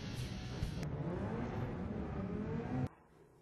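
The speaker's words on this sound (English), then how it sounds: "here the cars are lining up and getting ready for the unique standing start" Several race cars rumble and rev together at close range on the starting grid before a standing start in a touring car championship, a dense mechanical drone that cuts off sharply near the end.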